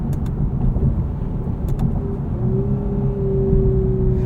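A 2022 Lexus IS 350 F-Sport with a six-speed automatic drives along, its engine a steady, close interior drone with a rising whine near the end and no talking.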